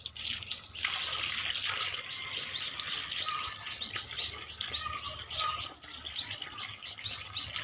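Water poured onto a banana tree makes a steady, soft splashing hiss that runs almost the whole time, with birds chirping repeatedly in the background.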